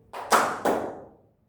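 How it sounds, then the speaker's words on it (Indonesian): Two quick group hand claps from students in a classroom, close and crisp, the second closely following the first, each decaying into short room reverberation. "kalau Mister menyebutkan clap, kalian yang tepuk tangan"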